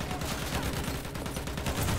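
Dense, rapid gunfire fills a Battlefield 1 match: continuous overlapping automatic bursts and shots, loud and close, with no pause throughout.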